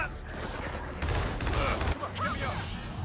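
Gunfire in the game Gears of War 4, a rapid rattling volley of shots in the middle of the stretch, close and loud against a busy battle backdrop.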